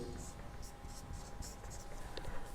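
Pen writing a physics resistance calculation by hand on paper, a steady faint scratching with light strokes that runs unbroken, with no voices.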